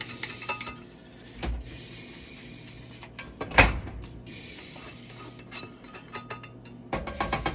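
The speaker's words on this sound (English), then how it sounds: "So I'm just gonna scrape all that out." Cooked Philly steak meat is scraped out of a pan with a utensil: scattered scrapes and light metallic clanks, with one sharp, louder clang midway, close up with no talking.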